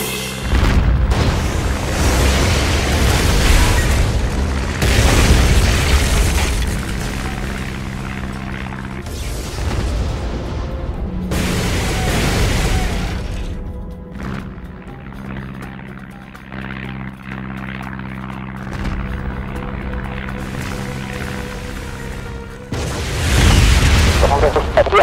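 Gunfire and deep explosion booms rumble through a World War II battle at Tobruk in the strategy game Codename Panzers 2, with loud bursts recurring across the stretch, dropping briefly, then surging back near the end.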